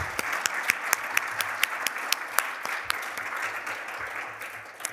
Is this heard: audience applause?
yes